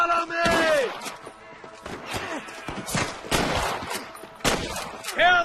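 Gunfire crackles through a Red Dead Redemption shootout, with repeated loud shots and ricochets mixed with shouting voices and whooshing effects in a chaotic, busy burst.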